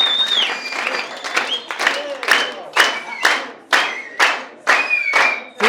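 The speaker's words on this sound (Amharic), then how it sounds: "ሞቅ ባለ ጭብጨባ ወደ መድረስ" An office audience at a coffee-ceremony event in Addis Ababa claps warmly. The sharp claps come in bursts that swell and fade, with a whistle and some voices mixed in.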